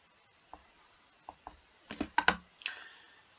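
Computer mouse clicks sound while a tile map is edited, a few sparse single clicks followed by a quicker cluster of sharp, close taps in a quiet room.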